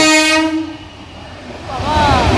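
A train horn blares loudly at a closed rail crossing gate, then fades under heavy rumbling as the train rolls past nearby, with a second horn sweep near the end.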